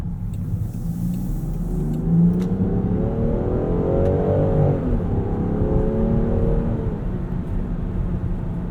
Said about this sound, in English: Great power here from this 3-liter inline 6. Makes a good noise too.